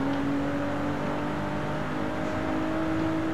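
A car engine in Forza Horizon 5, driven with a Logitech G29 wheel during a Canon Run street race, revs hard and steady at full throttle, a loud sustained drone with no talk.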